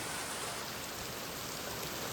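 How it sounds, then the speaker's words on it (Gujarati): Steady rain falls around a farm building with a broken tin roof, making a dense, even hiss that stays constant and close for the whole stretch, with no voices. "હા જો વરસાદ છે હજી"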